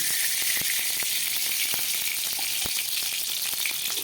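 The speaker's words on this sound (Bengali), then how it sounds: "একটা কড়াই বসিয়ে দিয়েছি। একদম প্রথমে আমি এর মধ্যে 2 চামচ মতো ঘি দিয়ে দিলাম।" Steady, close sizzling of about two spoons of hot ghee in a wok, a continuous crackling hiss with tiny pops scattered throughout.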